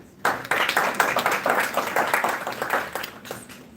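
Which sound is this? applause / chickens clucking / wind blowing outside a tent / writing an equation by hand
applause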